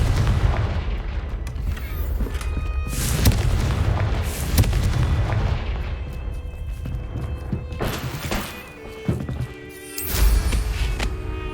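Fiery Confringo spell blasts from the Hogwarts Legacy video game, a run of loud booming explosions with heavy low thuds and crackling bursts, several impacts clustered through the stretch amid dense game combat noise.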